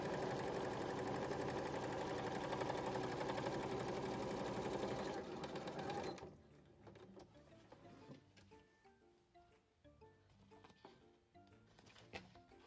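Home sewing machine stitching cosplay paneling with a regular running stitch, a loud steady whirring drone for about six seconds, then stopping and leaving only faint clicks and handling noise.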